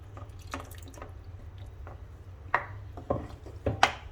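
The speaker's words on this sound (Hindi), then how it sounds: "और थोड़ा सा पानी भी इसमें डाल देंगे हम मिक्सर का।" Water from a mixer jar poured into a pot of spinach and potato curry, heard as a few faint, scattered splashes and drips spread over several seconds with no talking.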